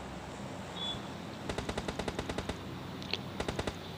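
Bursts of automatic gunfire in PUBG Lite come from behind the player. Two quick strings of sharp rapid shots, the first longer, are crisp and moderately close, with no talk.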